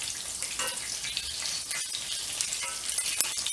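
Sausage sizzles steadily in a hot pan while cooking for breakfast, a dense, even crackle and hiss that holds close and constant for the whole stretch with no voices.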